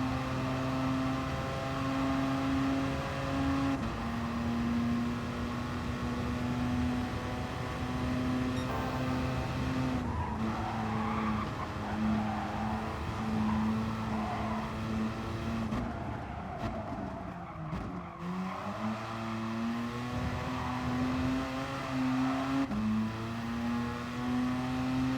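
Race car engine sound from the Gran Turismo Sport video game, a sustained tonal drone that shifts pitch through gear changes, then drops sharply under braking before rising again. No voices are heard.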